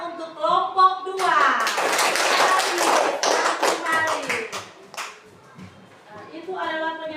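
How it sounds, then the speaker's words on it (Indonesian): Classroom group clapping for the second student group in a teacher-training lesson in Merauke, a dense burst of hand claps lasting several seconds, fairly close, with voices speaking before and after it. "Tepuk tangan untuk kelompok 2."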